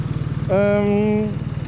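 BMW R1300 RT motorcycle ridden on a motorway, a steady engine note rising into a clear harmonic whine for about a second over low rumbling road and wind noise.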